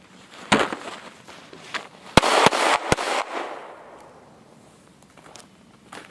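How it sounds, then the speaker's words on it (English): Pistol gunshots fired from the hip at a target outdoors in winter, with one sharp report followed by a quick series of three loud cracks, each fading into a short echo. "So the two shots that were totally off hip were more than good for me."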